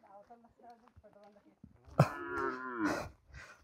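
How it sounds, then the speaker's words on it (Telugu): Cows being herded along a rural path in the Araku tribal hills give out a loud, drawn-out moo in the second half, following a stretch of quieter talk and shuffling. "ఫ్రెండ్స్ మా ఆవులు అయితే తీసుకెళ్తున్నాము ఈ ముందర అనమాట"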